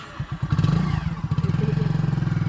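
A motorcycle engine idles nearby with a rapid, even putter, briefly revving at first and then settling into a steady rhythmic thumping with light mechanical clatter.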